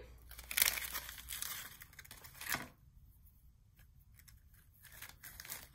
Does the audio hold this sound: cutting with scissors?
yes